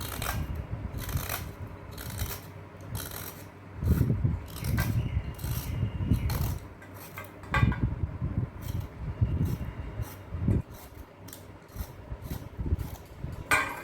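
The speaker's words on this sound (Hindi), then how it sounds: "इस तरीके से मैं सारे परवल को छील लूँगी।" A hand peeler scrapes the skin off pointed gourd (parwal), giving repeated short rasping strokes in an uneven rhythm, close up and moderately loud, with no talking.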